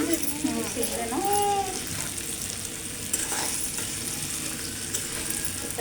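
Okra (bhindi) frying steadily in a pan with a continuous sizzle and some stirring, while faint voices drift in the background.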